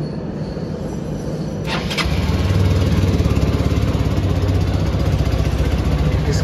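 A Hero Xpulse 200T 4V motorcycle engine starts with a brief burst, then settles into a steady, close, even idle with a low continuous rumble.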